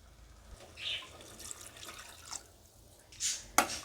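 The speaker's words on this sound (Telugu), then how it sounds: "నేను మూడు గ్లాసులు వాటర్ వేసానండి" Water poured by the glassful into a pot of mutton bone soup makes faint, scattered splashes and drips, with a sharper clink and splash near the end against a quiet kitchen background.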